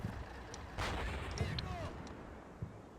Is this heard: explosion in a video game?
yes